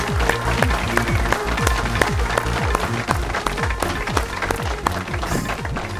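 Loud, energetic clapping from a studio audience on a spiritual quiz show, a dense rapid patter of many hands sustained for several seconds with strong low thumps running through it.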